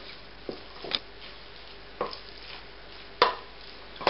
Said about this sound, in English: we mix the tomatoes in